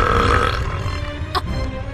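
A female cartoon character lets out a long, drawn-out burp, loud and close, holding for over a second before a brief sharp sound near the end.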